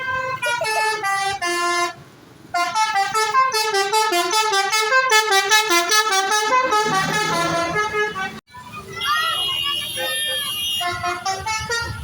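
Roadside bus telolet horns blare a loud, rapid melodic sequence of tooting notes, with a short pause, then another burst of chiming horn tunes. Voices are faintly audible in the background.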